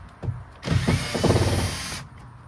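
A power drill whirs loudly for about a second and a half, driving Phillips screws into fiberboard trim panels inside a 1968 Chevelle, with short ratcheting clicks and thumps before and after.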